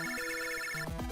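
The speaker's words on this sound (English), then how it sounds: "the water heater alarm is ringing" Electronic alarm of a water heater from the Mega Man Battle Network 2 video game, a bright chiptune-style ringing of stepped synthetic tones with a quick rising and falling warble at the end, loud and alone.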